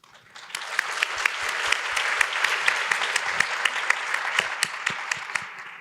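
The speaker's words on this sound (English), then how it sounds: "Let's give her a round of applause." Audience applause at a youth leadership event in Japan, a dense, steady wash of many hands clapping that swells in quickly and holds strong, with sharper individual claps popping out of the crowd.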